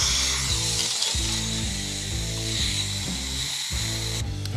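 A ratcheting wrench tightens the adjustment on an AGM pressure brake bleeder, giving close, loud, rapid rhythmic clicks in repeated strokes with brief pauses between them.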